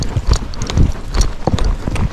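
An Icelandic horse's hooves striking steps on a trail, a close series of irregular clopping thuds with occasional scuffs, steady and fairly loud throughout.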